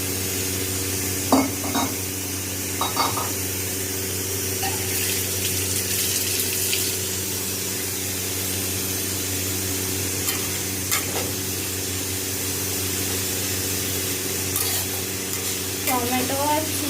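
Marinated chicken pieces frying in a pan on a medium gas flame, with a steady sizzle and a few scraping stirs of a spatula near the start and end, and no talking.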